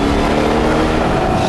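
A loud supercharged 2007 Ford Shelby Cobra GT500 engine roars steadily, a strained mechanical drone under heavy wind rush, sounding like hard acceleration through second gear from inside the car.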